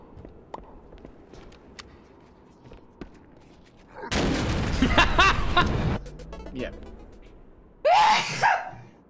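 A person sneezes in a sharp, loud burst near the end, following a roaring stretch of gunfire and noisy action from a Cursed Halo game session, with faint ticks and low background noise earlier.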